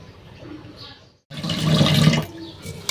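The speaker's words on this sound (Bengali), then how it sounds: "চালটা ধুয়ে নিই" Rice being washed in water, a short quiet trickle, a brief pause, then loud close swishing and splashing of water and grains.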